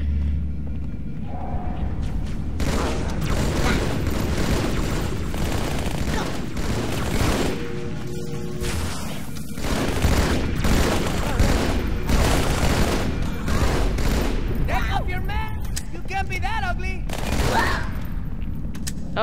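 Rapid gunfire rattles from the video game Halo 2 in dense, overlapping bursts, loud and continuous amid game sound effects, with a voice speaking faintly underneath.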